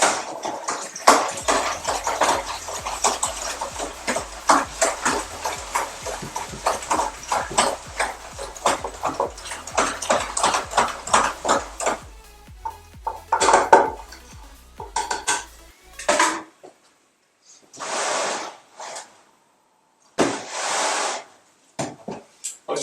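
Spoon stirring sugar into wine must in a bucket, a rapid rhythmic clattering scrape that runs for about fifteen seconds and then gives way to a few sparse knocks and rustles.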